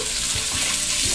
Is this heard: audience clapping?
no